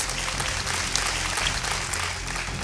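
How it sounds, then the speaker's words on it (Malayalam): An audience at a Kottayam quiz game show claps together in dense, sustained applause, close and loud for the whole moment, with no voice over it. "അദ്ദേഹം പറഞ്ഞതുപോലെ ഒരു നല്ലൊരു കൈയടി ആവാം"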